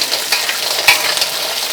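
Clams stir-frying with garlic in a hot pan for a spinach dish, a steady loud sizzle with crackling pops and a few sharp spikes of spattering, no voices.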